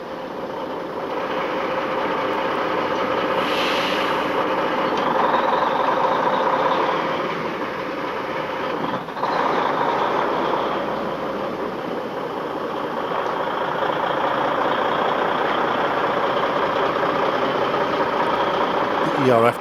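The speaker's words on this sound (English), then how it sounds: "ERF tractor unit, powered by a 410 Cummins" An ERF tractor unit's 410 Cummins diesel engine idles with a steady low rumble that continues throughout, while someone talks over it.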